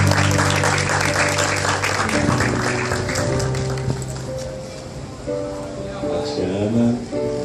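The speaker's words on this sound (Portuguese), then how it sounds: "Salve de palmas." Guests applaud at a wedding celebration, a broad wash of clapping that thins over several seconds while sustained music tones play underneath.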